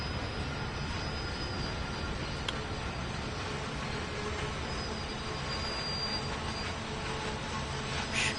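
A DB Vossloh G6 diesel shunter brakes in the Train Sim World 2 game, giving a steady rail rumble with faint thin squeals above it, fairly quiet and without talk.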